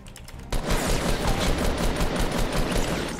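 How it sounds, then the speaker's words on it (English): Gunfire in the video game Fortnite Battle Royale, including sniper fire: after a short quiet lead-in, a loud, dense, continuous burst of rapid shots runs to the end with no talk. "Uh-oh, we're being sniped and potentially eliminated."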